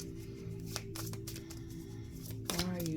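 Tarot cards are shuffled up close in quick riffling bursts, with a voice talking over them.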